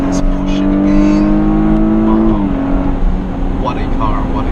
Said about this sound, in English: What a car, what a car. What an engine.